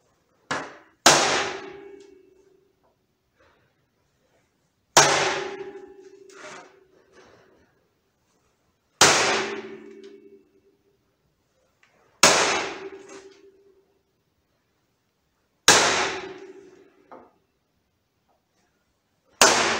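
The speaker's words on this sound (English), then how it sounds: "for my hammer so I can pop the holes" Five sharp hammer strikes land a few seconds apart, each a loud metallic knock with a ringing decay, nearby and with no talking.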